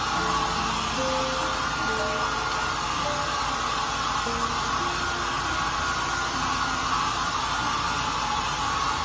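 A hair dryer blows in a steady, even hiss during dog grooming, close and constant for the whole stretch, with no talk over it.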